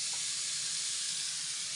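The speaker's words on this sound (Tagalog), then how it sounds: "dito ko iniihaw sa kalan" Mushroom grilling over a strong flame on a kitchen stove gives a steady, loud, close hissing roar of burner and sizzle with no break.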